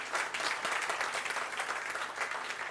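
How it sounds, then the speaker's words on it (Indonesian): A congregation at a church service applauds loudly and steadily, a dense wash of many hands clapping without a break for the whole stretch. "Tepuk tangan yang dahsyat."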